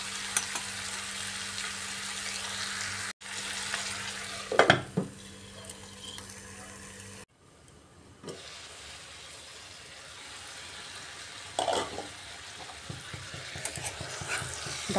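Chicken cooking under a lid in a pan, a soft steady sizzle with a couple of brief clinks and taps, quiet and close, with no talking.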